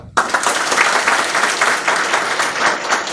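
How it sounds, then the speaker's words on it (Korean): Seminar audience bursts into applause after a sudden start, loud and close, with dense rippling clapping that continues without break. "자, 여러분 토론 시작하기 전에 박수 한번 칩시다."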